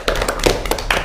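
Scattered hand claps from a small audience honoring university students from Politeknik Negeri Semarang and IAIN Kudus, a few uneven claps over a second with no talk.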